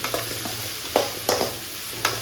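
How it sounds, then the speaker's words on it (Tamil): Brinjal sautéing in a pan for vatha kuzhambu, a soft continuous sizzle broken by three or four sharp spatula scrapes and taps, close and clear with no voices. "நம்ம சேர்த்த கத்திரிக்காயெல்லாம் வந்துட்டு நல்லா வதங்கிடுச்சு"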